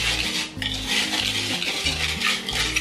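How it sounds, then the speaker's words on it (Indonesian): A spoon stirs sugar and cocoa powder together in a cooking pot, scraping and clinking against the metal in repeated, close, rhythmic strokes with no talking. "Ini kita aduk rata"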